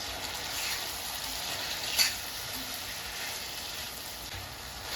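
Chopped tomatoes mixed into a pan with lightly fried cashews give a soft, steady sizzle and frying hiss, fairly quiet, with one faint scrape of stirring partway through.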